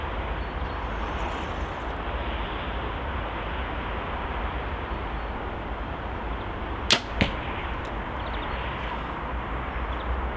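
Hoyt Carbon Matrix Plus compound bow releasing an arrow, a sharp snapping twang followed quickly by a second fainter thud over steady outdoor background noise, with little lingering vibration afterward.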